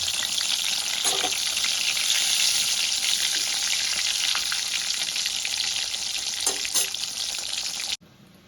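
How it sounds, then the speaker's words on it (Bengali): Eggplant slices sizzling steadily in hot oil for about eight seconds, a loud, dense crackle with a few soft stirring clinks, cutting off abruptly at the end. "এবার আমি এক এক করে দিয়ে বেগুনগুলো হালকা লাল করে ভেজে"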